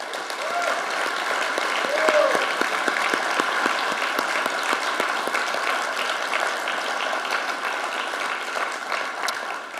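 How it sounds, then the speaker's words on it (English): Sustained applause from a large conference audience at a closing ceremony endorsing the Vilnius Declaration, a steady dense wash of clapping lasting throughout at a moderate, even level. "we can give this declaration a big round of applause"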